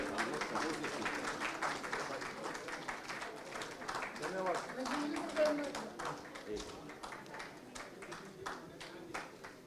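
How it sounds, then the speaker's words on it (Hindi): Audience applause at the Haryana Conclave 2023 honoring guests, a steady crowd clapping that holds for several seconds, with some speech and hall noise mixed in. "आपकी तालियों की गड़गड़ाहट के साथ हम अपने अतिथियों का सम्मान करें। एक बार तालियां बजाइए।"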